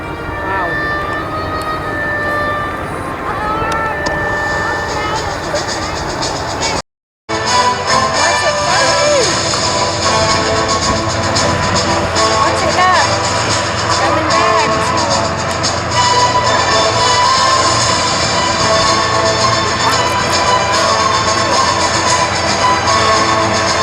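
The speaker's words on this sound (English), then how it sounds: "He's trying to monitor the engines as Bijan wrenches them around the sky." Piston engines of a WWII P4Y Privateer bomber drone loudly and steadily in flight, broken by a brief cut, with talk audible beneath the roar.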